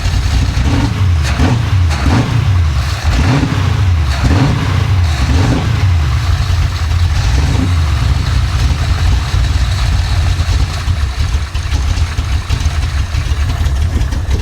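A 560hp Chevrolet Impala, once flooded, revs in a run of four or five deep throttle blips during the first six seconds, then settles into a loud, steady low idle for the remainder.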